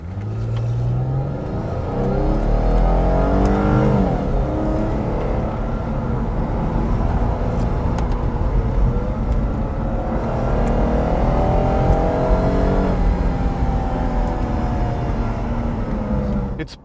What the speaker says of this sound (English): It has such a nice growl, and also the cool transmission sound